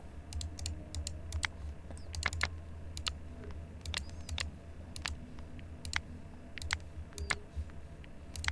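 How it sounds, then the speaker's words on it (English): A mouse sits right beside the microphone and clicks close and crisp, singly and in quick pairs, scattered irregularly over a low constant hum with no talking. "Also, I am sorry if my mic is picking up the clicking."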